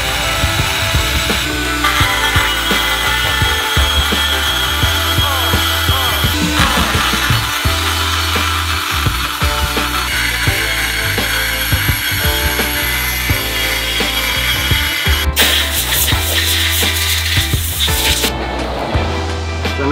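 A power tool grinds open a port in a Mazda RX7 rotary engine, a loud continuous whirring and scraping that shifts in pitch as pressure changes, running steadily throughout with no talking.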